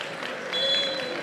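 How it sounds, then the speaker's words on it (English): A crowd at a university basketball game in the Roses 2026 varsity competition cheers and applauds as a substitute enters, a steady wash of noise that swells halfway through. "getting a big cheer from the crowd"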